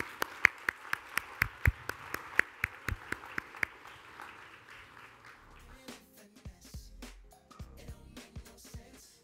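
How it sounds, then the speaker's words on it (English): An audience at a conference talk applauds defense attorney Jose Baez, opening with a few sharp, distinct claps that thicken into moderate, uneven clapping, with some rustle and a voice briefly audible near the end. "If everybody could give a great round of applause for Mr."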